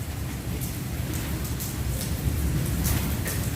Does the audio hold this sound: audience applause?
no